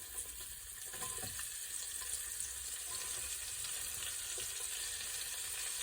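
Chopped onion frying in a pan for homemade apricot chicken, a steady close hiss of sizzling oil with faint scattered pops and a couple of soft utensil touches, no voices.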